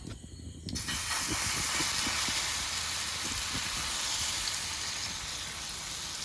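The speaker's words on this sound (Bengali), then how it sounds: "এরপরে ওটস দিয়ে একটু একটু করে পরোটাগুলো ভেজে নেব" Oats paratha frying in oil on a hot tawa, a steady loud sizzle that starts abruptly after a brief quiet moment and holds on evenly, with faint crackles underneath.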